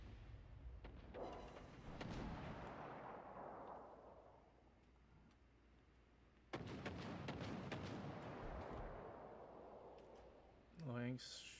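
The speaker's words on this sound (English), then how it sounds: "Alabama just shot at us" Heavy naval guns fire in World of Warships Legends: two deep booming salvos rumble and fade over several seconds each, and a voice talks briefly near the end.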